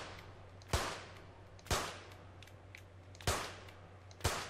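Four sharp shotgun blasts fire one at a time in clay target shooting within the London 2012 video game, each a loud crack with a short decaying tail, spaced about a second apart over a low steady hum.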